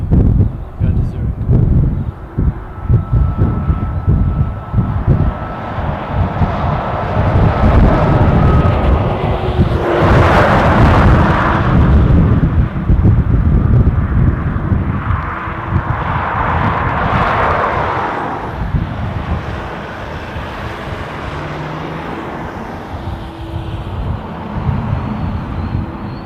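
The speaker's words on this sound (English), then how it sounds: "Swiss Air A330 going to Zurich." A Swiss Air Airbus A330 at Dublin airport gives a loud, continuous jet roar with rumbling wind buffeting. It swells to a peak midway and then slowly fades as the plane passes, with people talking underneath.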